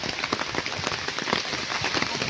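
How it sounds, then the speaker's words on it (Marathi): Heavy rain pours down steadily, a dense hiss of drops drumming on surfaces close by, with no voices. "भरपूर पाऊस पडतोय सकाळी पाऊस नव्हता गणपती आणताना पण आता भरपूर पाऊस आहे"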